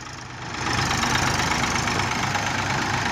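A Massey tractor engine runs steadily close by as the tractor backs up in reverse, its diesel drone swelling after the first half second and then holding loud and even with no talk.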